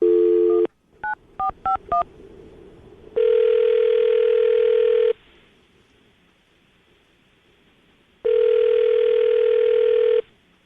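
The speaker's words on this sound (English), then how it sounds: "I'm going to dial the phone number right now, get her on the phone" A landline phone call being placed for a radio show: a short steady tone, then a quick run of five touch-tone key beeps, followed by two long, loud ringing tones separated by a quiet gap.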